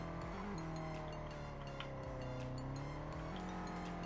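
Tofaş car drifting in a mobile drift game on a large Fortnite-themed map, a steady engine drone with shifting pitch and faint tire squeal running continuously throughout.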